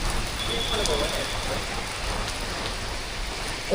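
Heavy rain pours over Siam Square in Bangkok as a dense, unbroken hiss of drops on pavement and shelters, with faint bits of passing voices under the downpour.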